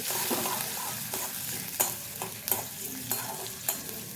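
Ginger and green chilli paste stirred and fried in a pan with a little water for a taro dish, a steady sizzle broken by regular scraping strokes of a spoon, close and alone.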